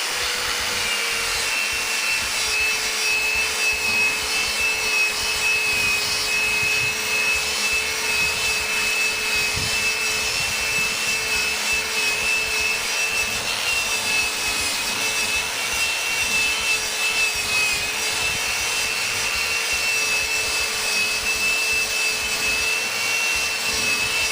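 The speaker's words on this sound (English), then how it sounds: "I'm gonna start sanding to see how good or bad it turns out" A power sander whines steadily against a metal drum, a constant abrasive hum that runs unbroken and close by.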